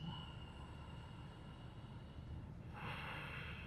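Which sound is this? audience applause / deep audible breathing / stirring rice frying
deep audible breathing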